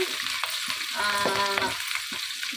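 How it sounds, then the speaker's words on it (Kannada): Green chillies and dals frying in hot oil, with a steady close sizzle and short stirring scrapes, alone with no voices. "ಹಸಿಮೆಣಸಿನ್ಕಾಯಿ ಇದು ಚೆನ್ನಾಗಿ ಫ್ರೈ ಆಗಬೇಕು"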